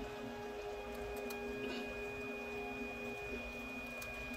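Mixer blending bananas and strawberries for dairy-free ice cream, giving a steady mechanical whine and hum at low level, constant throughout with a slight dip in pitch near the end.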